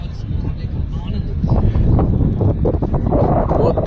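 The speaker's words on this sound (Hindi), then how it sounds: "बहुत तेज हवा चल रही है।" Strong wind buffets the microphone at an outdoor local league cricket match, a loud continuous roar that swells and stays steady throughout.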